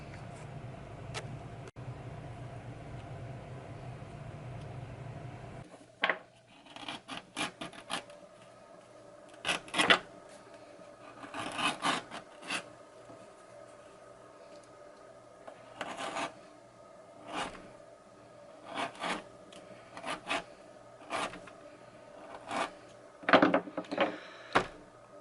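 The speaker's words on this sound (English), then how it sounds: "let me just come back in about 10 minutes doing more of this loading and sharpening." A knife blade stroked repeatedly across a sharpening surface, rasping scrapes in irregular bursts with short pauses between them, close and fairly quiet over a low steady hum.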